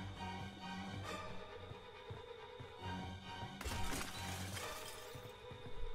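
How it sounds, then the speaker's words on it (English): Glass shattering as a window breaks in the video game Friday the 13th, a sharp crash partway through over a steady bed of game ambience and music. "He broke a window."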